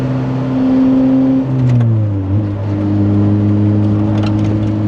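A Lotus Elise engine revs loudly and up close, its pitch dropping and climbing through quick gear shifts in one continuous drone.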